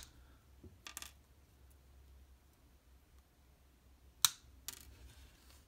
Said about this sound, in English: go ahead and snip the wire endings